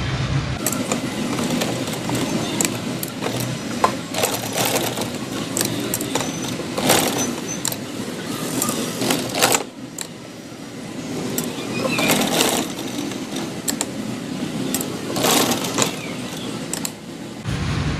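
A sewing machine stitching an embroidery patch embellished with stones onto fabric at home, running continuously close by in steady mechanical bursts with short pauses.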